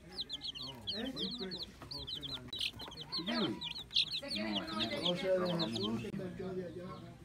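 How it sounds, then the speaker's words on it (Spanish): Chickens and a hen clucking around a countryside farmyard where a large turkey also roams, repeated calls close by over steady talk and background voices. "Mira la gallina."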